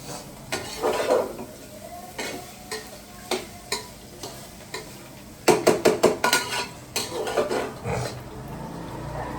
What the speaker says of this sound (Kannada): ಕಾಯಿ ತುರಿ ಹಾಕಿ ಒಂದು ಹತ್ತು ನಿಮಿಷ ಫ್ರೈ ಮಾಡ್ಕೊತೀನಿ